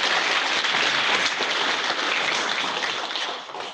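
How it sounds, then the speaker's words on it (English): A crowd at a priest academy graduation ceremony gives a sustained, even round of applause that holds steady, then thins and fades near the end, with no voices over it. "Ladies and gentlemen, give them another round of applause."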